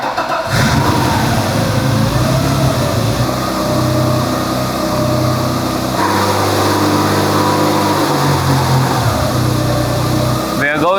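A BMW E30 with a swapped M50B25 straight-six, running on an Ecumaster DET3+ piggyback, fires up and revs loudly, then drops into a steady rumbling idle, with people talking over it throughout.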